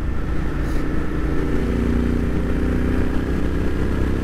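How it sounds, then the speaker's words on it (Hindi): Royal Enfield Interceptor 650 motorcycle cruising on the road, its exhaust giving a steady, continuous low rumble with wind noise, loud and unbroken throughout. "एंड एग्जॉस्ट का साउंड नोट बहुत सही है"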